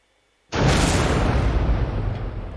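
An energy shield in the Minecraft Naval Warfare mod destroyed by an energy overloader: after silence, a sudden loud roaring burst that sustains as a dense, rumbling hiss before slowly easing, no voices.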